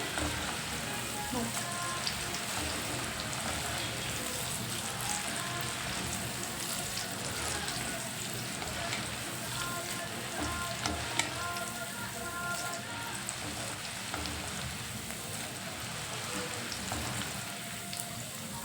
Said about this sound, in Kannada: ಬೆಳ್ಳುಳ್ಳಿ ಹಂಗಾಗಿ ಸ್ವಲ್ಪ ಕೆಂಪಾಗೋರ್ಗು ಒಂಚೂರು ಹುರ್ಕೊಂಡ್ರೆ